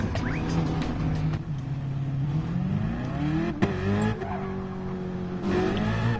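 Simulated racing car engine in Gran Turismo Sport, a deep, meaty roar that revs up and climbs in pitch through gear changes, with brief tire squeal and skidding, loud and steady throughout.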